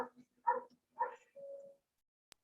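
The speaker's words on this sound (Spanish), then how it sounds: "se escucha un perrito" A small dog yaps three or four times in quick succession, fairly faint and distant, with short gaps of quiet between the barks.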